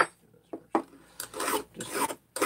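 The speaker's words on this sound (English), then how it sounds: "I'm just going to take the burrs off." A file rasps burrs off metal kit parts in several separate strokes with short pauses between them, close and fairly loud, with no voices.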